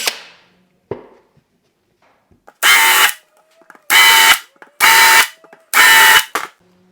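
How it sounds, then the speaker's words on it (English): A power drill with a countersink bit bores into wooden screw holes while building a table saw infeed extension: four loud, steady whirring bursts of about a second each, separated by short quiet gaps, with no talking. "Now we also want to countersink these screws,"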